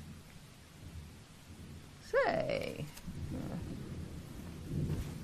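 Thunderstorm with rain in a rural area at night, steady rain hiss under a sudden loud rumbling thunderclap about two seconds in that rolls on for a few seconds, with someone speaking briefly.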